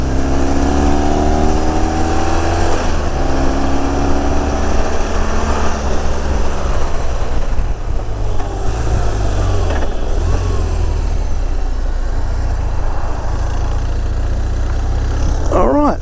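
A car engine drones loudly and steadily while driving, its pitch stepping as the driver shifts down through the gears, with one back wheel slipping slightly.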